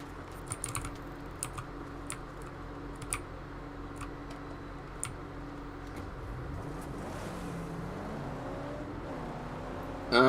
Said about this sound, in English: The handling isn't very good on this car.